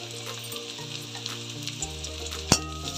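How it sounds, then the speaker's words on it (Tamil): Curry leaves sizzle and crackle in hot coconut oil with onion in a home kitchen, a steady close frying hiss with one sharp pop near the end and no talk. "இப்போ கொஞ்சம் கருவேப்பிலை போட்டுக்கலாம்."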